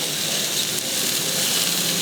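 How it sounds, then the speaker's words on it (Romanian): A steady, even hiss of water heating in a pot for carp saramură, constant and close, with no voices. "în timp ce apa fierbe"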